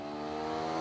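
A TVS RTX 300 motorcycle engine runs at high revs near its rev limiter, giving a loud, steady, buzzing drone with no break across a short burst.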